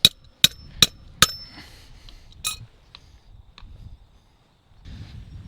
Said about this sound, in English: Hammer would be a better tool for this.